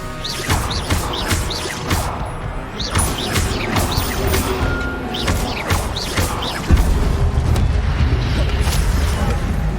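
An Incendio fire spell bursts out in Hogwarts Legacy, a loud whooshing blast layered over busy game ambience with a thick low-end surge near the end.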